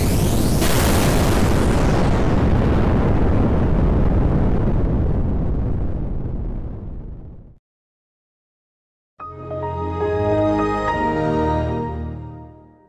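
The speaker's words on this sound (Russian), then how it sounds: "это бомба взрыва." A huge, roaring Windows error-parody bomb explosion booms and slowly fades away, followed after a brief silence by a second rumbling blast.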